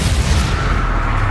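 A Confringo fire-blast spell in Hogwarts Legacy goes off as a dense, sustained explosive rumble with heavy low-end boom, loud and close throughout, with no voices.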